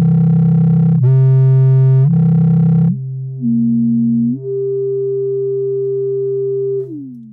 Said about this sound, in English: You can hear it very audibly there change pitch as I change the number of poles.